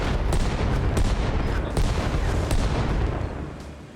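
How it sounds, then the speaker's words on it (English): Mortar barrage explodes in the video game Arma Reforger, a rapid run of sharp booming blasts cracking every half second or so, close and loud over a dense rumbling backdrop, with no voices. "if I get a mortar barrage right there"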